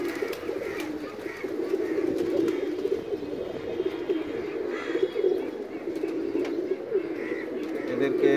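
Jalali pigeons coo steadily while being fed, a dense, continuous murmur of many birds close by, with occasional chirps over the flock's low throaty cooing.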